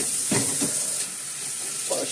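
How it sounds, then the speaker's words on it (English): Steady hiss of tap water running over hands at a kitchen sink, a constant broadband wash with a few soft splashes and shifts as the hands move under the stream. "Let me wash my hands here"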